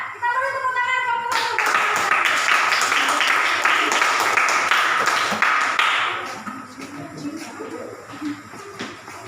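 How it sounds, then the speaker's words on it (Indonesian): Classroom applause for a student group in a teaching session, dense clapping from many hands that swells loud and then fades after several seconds, followed by voices talking. "Kita beri tepuk tangan kelompok"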